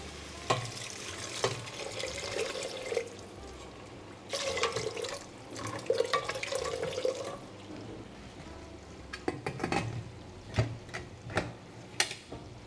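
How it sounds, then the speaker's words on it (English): Water is poured into a pot of split peas for pressure cooking, a soft splashing pour with a few sharp clinks and knocks against the pot, quiet and close, in several bursts. "now I'm going to add water to this and then cover and pressure cook"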